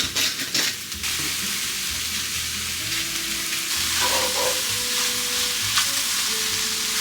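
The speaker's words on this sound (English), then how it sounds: "And then I cook the onions, green onion, and mushrooms together." Onions, green onions and mushrooms sizzle together in a hot skillet, a steady, close frying hiss with scraping stir noises early on and faint clinks later.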